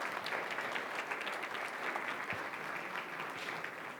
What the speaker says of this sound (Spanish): Quiero que les demos un aplauso a las personas que se bautizaron el día de ayer.